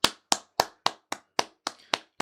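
A small group claps in a slow, evenly spaced rhythm, about nine sharp separate claps over two seconds, close and fairly quiet, with no other sound.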